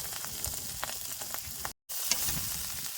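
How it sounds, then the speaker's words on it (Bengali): Soft, steady sizzling of bitter gourd seeds and onion frying in a pan, close and fairly quiet, with a few light crackles and no talking. "ঘি করালার বীজ আর পেঁয়াজ বেশ সুন্দর ভাজা ভাজা হয়ে গেছে"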